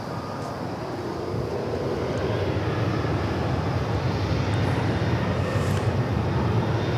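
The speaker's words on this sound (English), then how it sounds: "This will be a 777 arriving from Doha after a journey of 15 hours and 3 minutes so far." Boeing 777 airliner arriving at Dallas Fort Worth airport from Doha, a steady broad jet engine roar that holds level and continuous throughout, heard from a distance outdoors with no talk.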